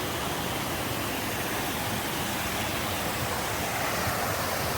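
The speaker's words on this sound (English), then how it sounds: "Look at that water rushing down there." Water rushing down a mountain stream beside a hiking trail in the New Hampshire White Mountains, a loud steady broadband roar close by, constant throughout with no voices.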